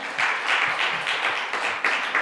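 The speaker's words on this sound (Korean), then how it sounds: "희찬이에게 박수 한번" Applause from a congregation at a church youth service: a short burst of many hands clapping close by in uneven, pulsing waves, with no talk over it.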